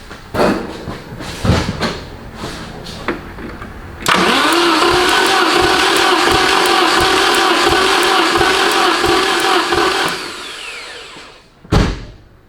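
The misfiring engine of a Porsche 924 Turbo cranks on the starter for about six seconds during a compression test, a loud steady churning whir that stops abruptly, with faint knocks before and after.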